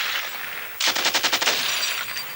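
Machine gun firing a rapid burst of about nine evenly spaced shots, loud and close, following a steady broadband hiss and trailing off into noisy ambience.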